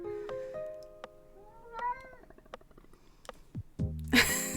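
A pet cat meows a few times, faint and in the background of a quiet room while an Animal Crossing game plays, with game music and a louder burst near the end.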